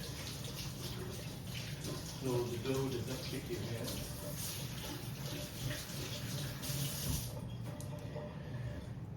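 Cold water runs from a tap as hands are wetted while making bread dough, a steady close splashing hiss under a person speaking.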